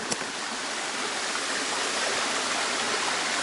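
A river flows near a camp, its steady broadband rush filling the scene loud and close without a break.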